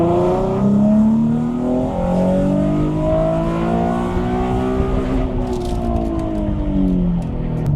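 A naturally aspirated car on a dyno, its exhaust roaring loud and close as revs climb in long rising sweeps, dip briefly, then climb again before the pull cuts off with a few crackles.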